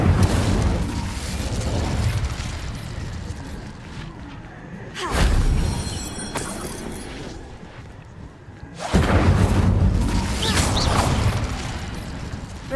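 Incendio fire spell cast in the video game Hogwarts Legacy, heavy whooshing booms in three surges with rumbling low end and crackling decay, loud amid game ambience.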